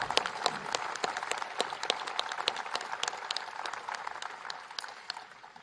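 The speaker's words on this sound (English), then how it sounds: "And that deserves applause." Applause from an audience at a bill-signing ceremony led by the President, a steady wash of many hands clapping with sharp individual claps standing out, moderately loud and easing slightly toward the end.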